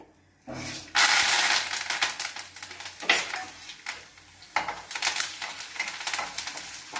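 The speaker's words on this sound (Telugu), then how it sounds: "కరివేపాకు జీలకర్ర ఆవాలు అన్నీ వేస్తానండి" Mustard seeds, cumin, curry leaves and dried red chillies hit hot oil, bursting into loud crackling and spitting that surges and fades in waves, with the clink of a spoon against the pan.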